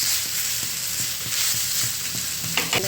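Leftover khichdi rice stir-fried in a pan on a wood-fired chulha, giving a steady close sizzle and hiss with a few scraping stirs near the end and no talk.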